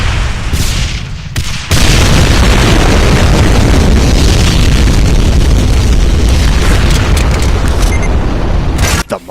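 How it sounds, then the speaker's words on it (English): A Cyberdemon's nuclear blast in a modded DooM game erupts as a massive, sustained roaring explosion, loud and overwhelming for several seconds after a few sharp blasts, with no talk. "get behind solid cover quickly before it does a nuclear explosion"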